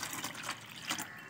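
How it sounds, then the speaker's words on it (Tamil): Water poured over cut aloe vera pieces to wash them, a steady splashing, gurgling flow close by for just over a second with no talking. "இப்போ இவங்களுக்கு வந்து அப்படியே தண்ணி ஊற்றி ரெண்டு டைம் அப்படியே கழுவி எடுத்துக்க"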